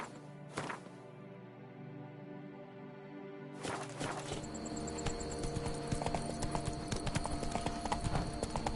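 A horse in the fantasy video game The Witcher 3 clip-clops steadily under a musical game soundtrack, with hoofbeats growing busier as it speeds up.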